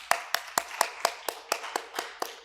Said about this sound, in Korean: 하나님께 영광의 박수를 돌려드립니다